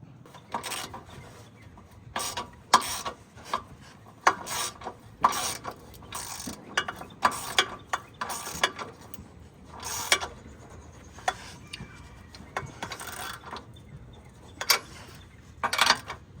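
Ratchet with an offset socket cranking on exhaust bolts of a 2014 Kia Soul, giving repeated bursts of close, loud clicking in uneven runs with short pauses between them.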